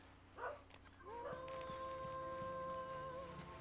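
A dog howls in Final Fantasy XIII: a faint yelp comes first, then a long, wavering, tonal howl that holds steady over a quiet ambient game background, with no voices.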